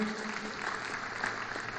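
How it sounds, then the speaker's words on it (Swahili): A large audience claps steadily at a formal national celebration in Kenya, a dense, continuous wash of applause without a break, with no speech over it. "Tumpigie makofi"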